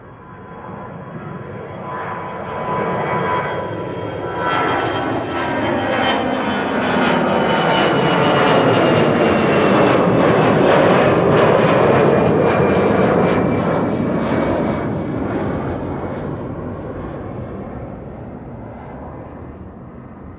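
An aircraft passes at Amsterdam Schiphol Airport with a broad engine roar that swells gradually, peaks mid-pass with a shifting whine, then slowly fades, heard alone without voices.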